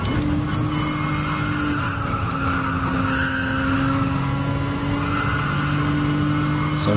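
Race car tyres squeal and skid continuously in Gran Turismo Sport, the front tyres worn during a league race, with a sustained tonal screech over a steady engine drone, loud and close throughout.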